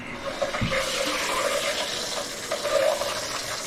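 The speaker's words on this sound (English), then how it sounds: "And give it the shower." Shower running steadily after a mixing valve replacement, a continuous hiss of spraying water with a soft thump near the start.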